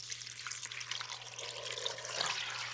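Water poured into a pot for seaweed gnocchi, a steady close splashing stream that grows slightly fuller toward the end, over a faint low hum.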